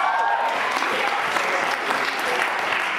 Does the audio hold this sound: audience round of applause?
yes